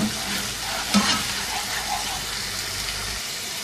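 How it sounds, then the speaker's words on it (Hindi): Onion paste frying in about four spoons of oil in a pan, a steady soft sizzle with a brief clink of a spoon near the start, continuous and fairly close. "प्याज को इतनी देर तक पका लेंगे कि ज़रा हल्का सुनहरा सा हो जाए"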